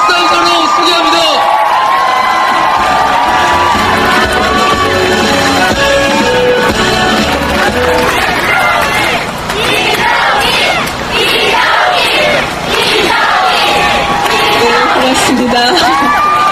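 A large street rally crowd in front of a bank after a march to the National Assembly claps and cheers loudly, with shouts and whoops swelling in waves, continuous and close, and a voice over a loudspeaker mixed in.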